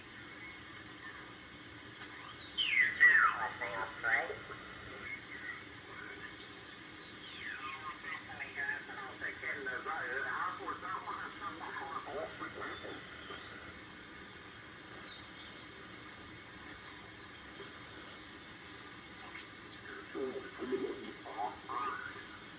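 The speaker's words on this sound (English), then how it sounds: "And that's Morse code there." Morse code tones on the 40m amateur band, received on an old direct-conversion radio, chirp faintly through hiss and sweeping tuning whistles as the dial moves across signals.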